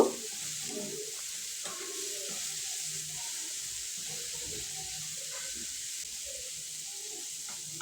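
Mixed vegetables for Hakka noodles soften in a hot pan, giving a steady, faint hiss with occasional soft clinks and stirring scrapes, no voices.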